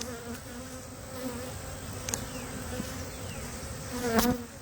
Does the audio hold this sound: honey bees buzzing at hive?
yes